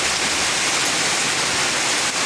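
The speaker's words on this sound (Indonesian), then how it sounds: "alhamdulillah hujan yang bagus" Heavy rain falling in a dense, steady hiss, close and loud and unbroken throughout with no voices.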